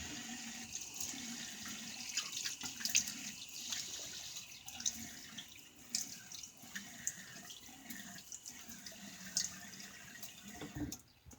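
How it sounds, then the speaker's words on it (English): Tap water runs steadily into a sink as an Ever Ready Streamline safety razor is rinsed, a continuous close splashing flow with small clinks and drips and no talking. "So rinse it, stick it back in, and pop her back in there. Let's get a rinse."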